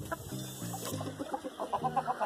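Several chickens cluck close by in short, repeated bursts, with overlapping calls forming a busy, steady chatter.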